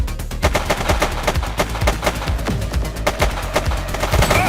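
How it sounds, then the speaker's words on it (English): Rapid gunshots in The Precinct crack out in a dense, fast volley, close and loud, almost like a machine gun firing continuously for several seconds. "Shot fired!"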